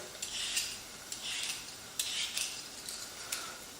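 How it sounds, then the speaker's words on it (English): A knife slices repeatedly through firm sweet potato on a cutting board, crisp scraping strokes in an irregular rhythm, close and fairly quiet, no talking. "I'm just going to slice up the sweet potato."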